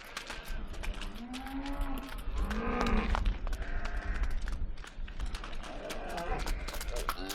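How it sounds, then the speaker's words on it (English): Cows mooing as a herd is moved on a farm, several long low calls overlapping, fairly close and loud over a constant rumble of background noise. "Just moving some cows."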